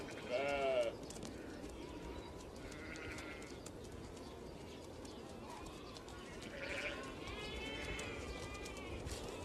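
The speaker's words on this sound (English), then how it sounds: "Domestic sheep." Faint domestic sheep bleats come from a distance on the Kazakh plains in a few short calls, over steady wind and open-air background noise.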